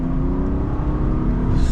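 A stock-exhaust BMW F30 with the B58 engine, before downpipes are fitted, runs loud and steady with a broad low rumble and a rising whir as it revs, sounding continuous and close by.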